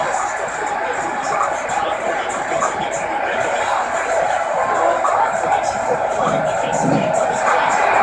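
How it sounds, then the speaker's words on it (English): A video game crowd cheers at a Hunt's Point scrapyard fight venue in Def Jam, a dense, steady roar that holds at even loudness for the whole stretch without breaks. "by the sounds of it, this crowd is ready for anything that happens tonight"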